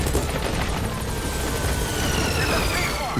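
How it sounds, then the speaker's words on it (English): A video game helicopter arrives, its rotor wash a loud, steady, broadband roar with faint whining tones, holding constant throughout. "So we'll call the helicopter back to our landing zone."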